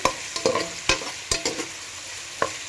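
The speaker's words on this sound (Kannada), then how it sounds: "ಸ್ವಲ್ಪ ಕಲರ್ ಚೇಂಜ್ ಆಗಲಿ ಈರುಳ್ಳಿದು, ಅಲ್ಲಿವರೆಗೂ ಫ್ರೈ ಮಾಡ್ಕೊಳ್ಳಿ" Onions fry in a pan while cooking mushroom biryani: a steady sizzle with several sharp clicks and scrapes from a utensil stirring against the pan, close and fairly quiet, with no talking.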